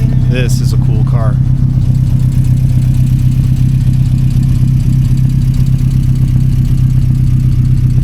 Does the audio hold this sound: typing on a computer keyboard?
no